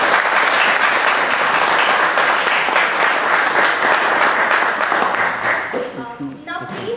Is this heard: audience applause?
yes